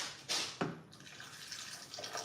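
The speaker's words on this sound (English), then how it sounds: "I usually put some water in here." Water pours into a container in a kitchen, a brief splashing gush followed by a soft, steady trickle, fairly close.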